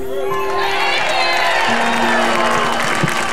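A large political rally crowd at the Capitol cheers and whoops loudly and continuously, with shouts and whistles rising out of the dense roar.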